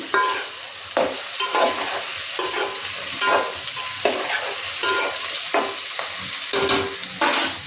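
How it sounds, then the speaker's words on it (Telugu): Bottle gourd and potato pieces with turmeric being stirred in a hot pan, a steady sizzle broken by repeated scraping strokes of a spatula about once a second, close and loud, no talking. "ఈ సొరకాయ ముక్కలకి, బంగాళదుంప ముక్కలకి పసుపు మొత్తము మంచిగా కలిసేటట్టు అయితే కలుపుకోవాలి"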